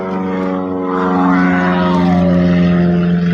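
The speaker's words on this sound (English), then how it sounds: "There we got a nice little plane going over." An old classic turboprop plane passes overhead, its steady droning propeller hum loud and close, swelling slightly as it flies over with no talking.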